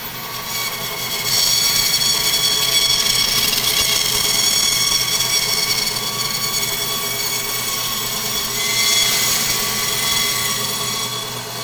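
A saw slices through frozen sample sections, giving a loud, steady, grinding whine that holds for the whole stretch and swells slightly near the start and end.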